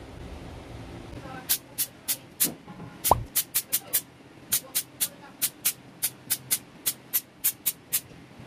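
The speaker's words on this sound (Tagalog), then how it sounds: "Spray 20 cm away from the target for a more even and smooth spray." Short bursts of Seal Spray sealant hiss from an aerosol can, about twenty quick rhythmic sprays following a few scattered ones, close and fairly crisp over faint background noise.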